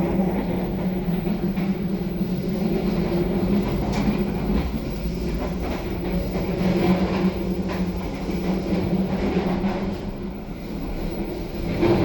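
Sawunggalih passenger train running between Kutoarjo and Jakarta, heard from inside the dining car as a steady, continuous rumble and rattle of wheels and carriage throughout, with no clear talk.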